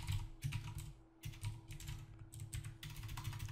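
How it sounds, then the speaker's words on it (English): Fingers tap out a password on a computer keyboard in quick, irregular bursts of close, crisp keystrokes with brief pauses between runs, alone without talk. "let me put in my password"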